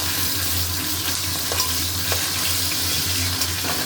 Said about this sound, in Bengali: মাছের মুড়োটা ভেজে আলাদা তুলে রাখবো।